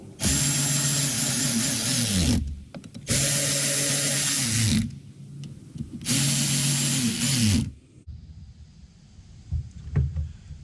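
Ratcheting hand tool snugging down screws on a Ford GT350 oil separator, three loud bursts of rapid ratchet clicks with pauses between, then a quieter tail of faint clicks.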